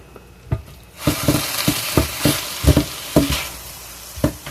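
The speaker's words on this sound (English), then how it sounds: "Warm up your tortillas in there." Tortillas warm in a hot skillet holding a one-pan meal, sizzling steadily up close, with a series of soft knocks and scrapes at irregular intervals.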